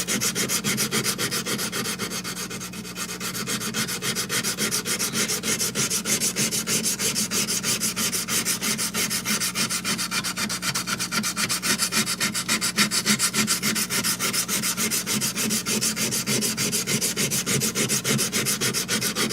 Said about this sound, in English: The hand sanding to make sure I don't burn anything